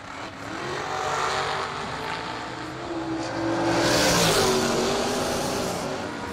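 A dragster making a re-entry run down the drag strip lanes at a Christmas bash bracket race, a loud, sustained engine roar that swells and fades as the car passes, with no talk over it.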